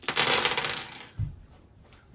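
Heavy custom plastic dice from a board game tumble and clatter on a hard surface in one dense rattling burst, followed by a couple of soft knocks as they settle, close and alone.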